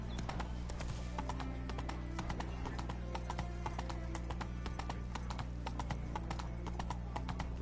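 Roach, the horse in The Witcher 3, gallops with a fast, steady clatter of hooves over a continuous game ambience, with faint snorts mixed in.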